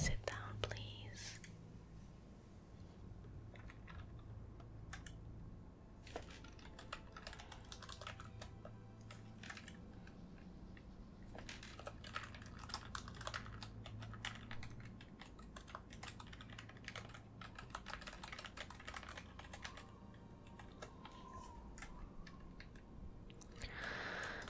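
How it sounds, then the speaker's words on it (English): Rapid keyboard typing on a computer keyboard during a World of Warcraft session, close and quiet, with soft spoken whispering running through it. "Bit of typing there."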